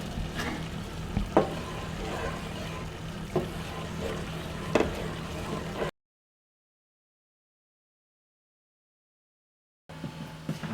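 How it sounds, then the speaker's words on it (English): Gravy is stirred in a pan as part of a Sunday roast dinner, with a soft sizzle and several sharp clinks of the spoon on the pan, broken by a stretch of silence. "Give the gravy a quick stir."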